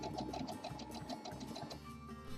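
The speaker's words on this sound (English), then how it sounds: "I'm just making a couple of zigzag stitches back and forth." A sewing machine runs steadily and close by, stitching a zigzag back and forth to join the two ends of an elastic loop for a hot water bottle cover, a dense mechanical whir with quick rhythmic needle ticks.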